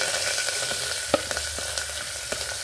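Chopped onion and curry leaves frying in hot oil, a steady close sizzle with a few sharp spatter pops and light stirring clicks.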